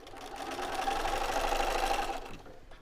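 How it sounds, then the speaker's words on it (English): A sewing machine stitching quilt fabric in one continuous run of nearly three seconds, a steady close whirring hum with rapid needle chatter that winds down at the end. "I'm going to go ahead and sew this"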